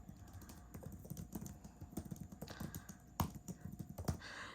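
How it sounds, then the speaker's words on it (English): Keys clatter on a Samsung Galaxy Tab S8 Ultra keyboard case, rapid uneven tapping with occasional heavier strokes, close and fairly quiet, no voices. "I'm trying to give you guys typing on the keyboard"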